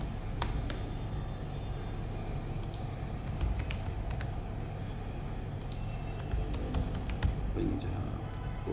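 Someone types an address on a computer keyboard, with quiet, close key clicks in quick irregular bursts over a low room hum.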